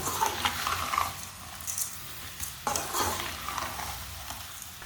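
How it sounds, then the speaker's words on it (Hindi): A spoon stirring sugar in a pot on the stove while making an orange preserve, soft scraping and clinking strokes with a faint sizzle underneath, quiet and close with no talking. "ऐसे ही चम्मच चलाते हुए चीनी को मिक्स कर लेना"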